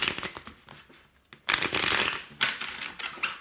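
Tarot cards being shuffled by hand in quick riffling bursts, close and crisp, with short pauses between shuffles and no speech.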